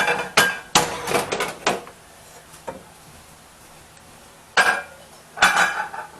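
A larger cooking pan is handled in a kitchen while pork chops are prepared, sharp metallic clanks and clinks in clustered bursts with quiet pauses between them, close and fairly loud.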